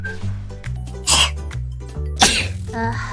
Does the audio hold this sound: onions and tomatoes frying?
no